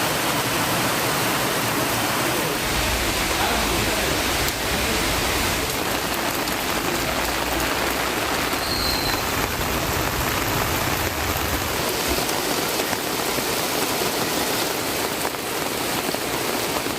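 Heavy rain pours without a break on a street lined with cart and roadside vendors. The hiss of downpour on the surfaces is loud and dense throughout.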